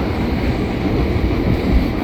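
A passenger train on the Penataran line brakes while descending and curving left through a long tunnel, a steady loud low rumble of wheels and carriage with no distinct squeal.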